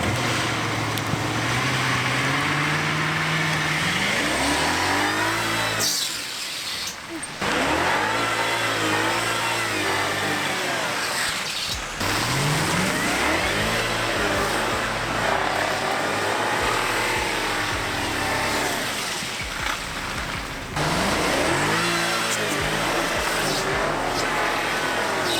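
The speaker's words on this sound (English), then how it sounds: "Never done donuts in an automatic." A BMW with an automatic transmission revs hard and repeatedly while doing donuts, its engine pitch rising and falling in loud, sustained cycles with brief dips between pulls.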